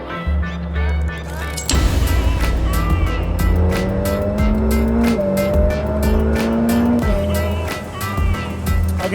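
A Ferrari F8 Spider supercar is driven hard on a race track, its engine revving loudly and rising through the gears with sharp shifts and tire squeal, close and dominant throughout.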